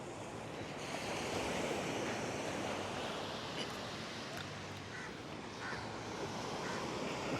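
Steady ocean surf washing onto a white-sand beach at Langkawi, a continuous broad hiss with wind buffeting the microphone and faint voices in the distance.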